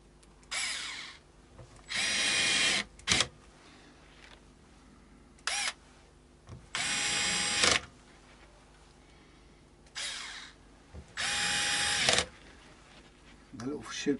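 A power drill on its lowest torque setting driving pickguard screws into a Yamaha Pacifica 112V electric guitar, about five close, loud whirring bursts of one to two seconds each, separated by short gaps with small clicks and handling knocks.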